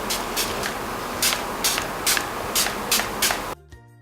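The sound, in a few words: spraying makeup setting spray on face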